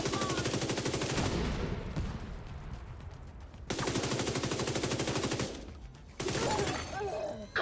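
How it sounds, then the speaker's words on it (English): Sustained automatic gunfire in The Division, with rapid bursts broken by short gaps and a grenade launch amid the firefight, loud and dense throughout, with no talking. "Grenade launch."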